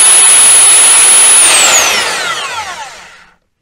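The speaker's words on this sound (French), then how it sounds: "essayer de percer correctement malgré le poids du perforateur" A heavy rotary hammer drill set to plain drilling mode, without hammering, whirs loudly up close, then winds down with a falling whine over a few seconds.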